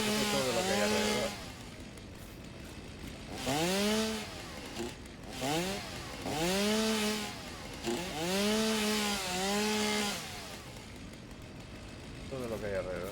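A chainsaw in the game Satisfactory revs up and down in about six rising and falling pulses, each a buzzing motor surge separated by brief lulls, fairly close.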